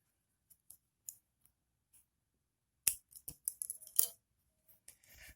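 Scissors snip yarn on a handmade amigurumi crochet unicorn piece, a few faint isolated clicks followed by a louder cluster of quick, close snips and blade clicks in an otherwise quiet room.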